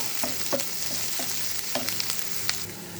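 Onions sizzle and crackle steadily in a hot pan, with a few light scraping stirs and occasional pops, while cooking filling for Ukrainian cabbage rolls.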